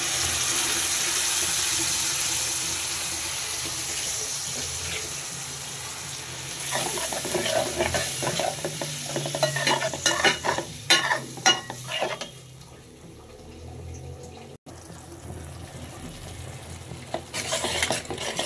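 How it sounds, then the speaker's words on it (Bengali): Spice paste with cumin stirred and fried in a pan, a steady sizzle first, then spoon scrapes and clatter mixing with hissing and a splash of added water, no talking. "মশলাটাকে সুন্দর করে ভাজা ভাজা করে কষায় নিব।"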